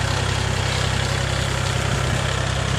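Farm tractor engine running steadily during tuber digging in a cassava field, a continuous low idling rumble with vibration, close and loud, no voices.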